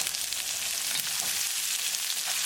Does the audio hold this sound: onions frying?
yes